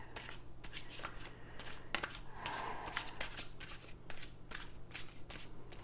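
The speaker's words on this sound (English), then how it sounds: "So to keep these from bowing, I always just shuffle them the opposite directions, and then they always stay straight." Slick Revelations Tarot cards being shuffled by hand, a close, steady run of papery riffling bursts repeating through the whole stretch with no talking.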